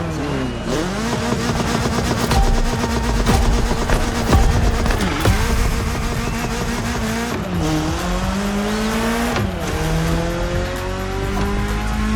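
A BMW M3 races in The Crew Motorfest, its engine loud and close as it revs through climbing gears with sharp shift drops and brief tire squeal, no talk.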